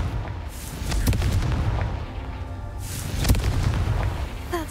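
Confringo fire spell explosions in the game Hogwarts Legacy, a string of loud booming blasts and sharp impacts over a rumbling fiery background, with no speech over them.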